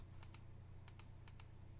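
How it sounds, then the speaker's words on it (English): Six quiet computer mouse clicks in three quick pairs, close by, over a steady low hum, with no one speaking. "you can hear the mouse clicking."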